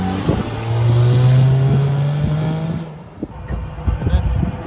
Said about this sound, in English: I'm just going to take it for a spin around the block.